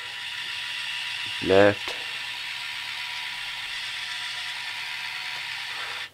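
The drive motors of a cheap RC John Deere toy tractor give a brief ratcheting, geared whir of about half a second, nearby, over a steady electrical hum, with a voice speaking briefly.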